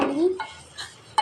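A spoon scrapes and clinks against a pot while custard milk is stirred, with short separate metallic knocks and a brief clatter at the end.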